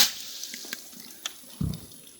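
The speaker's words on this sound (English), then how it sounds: "we're going to fill this bucket up with some water here" Water runs from a tap into a bucket at a homestead, a steady thin hiss with a few light clinks, then a deeper gush and splash near the end as the flow hits the water.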